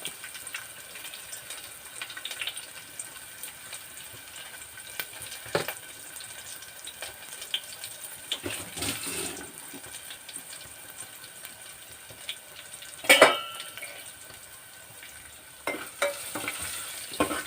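Continuous sizzle of a spice tempering with onions and asafoetida frying in oil, a few spoon-stirring clinks and scrapes against the pan, steady and close, one brighter metallic tap partway through.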